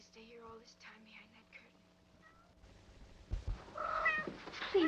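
Cats meow in a scene from a 1947 film. A voice speaks softly first, then several close meows rise and waver toward the end, growing louder.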